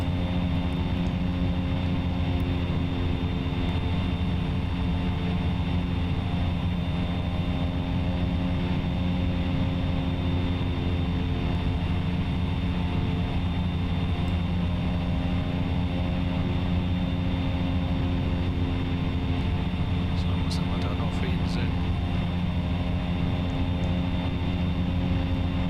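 Cessna 208B single-engine turboprop in the X-Plane 10 flight simulator, cruising on a steady, loud, continuous engine drone with a few faint brief clicks near the end.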